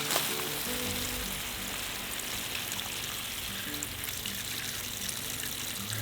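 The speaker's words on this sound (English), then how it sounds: "I got all the cabbages watered" Garden hose or watering spray falling steadily on cabbage plants and soil in a homestead vegetable bed, a continuous hissing, splashing wash that stays even and close for the whole stretch, with no voices.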